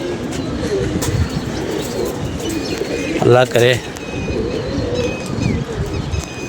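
Pigeons coo in a brief, close burst of soft throaty notes, set against a noisy outdoor background with other birds chirping and someone speaking over it.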